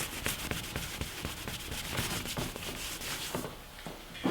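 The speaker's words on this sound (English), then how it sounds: "if the residue really bothers you, you can remove it with some lacquer thinner" Rag rubbing residue off a chainsaw bar with lacquer thinner, a close, steady scrubbing in quick repeated strokes that continues without a break and without any talk.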